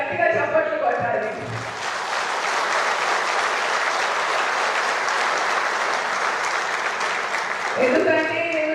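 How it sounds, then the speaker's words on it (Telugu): An audience at a Hindu conclave in Karimnagar breaks into loud, sustained applause that lasts several seconds. A speaker's voice can be heard before and after the clapping. "మీకు ఒకవేళ భారతీయులని గర్వంగా ఉంటే ఒకసారి గట్టిగా చప్పట్లు కొట్టాలి"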